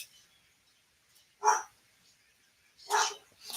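A dog barks indoors, two or three short, fairly sharp barks spaced apart, with quiet room background between them.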